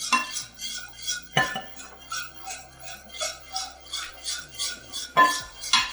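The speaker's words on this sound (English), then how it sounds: "I'm just going to stir this, keep whisking it, and I'm just going to bring it up to the boil" A whisk rattles steadily against a pan as milk is whisked into a macaroni and cheese sauce, making rhythmic metallic scraping and clinking strokes at close range, with a few sharper knocks against the rim.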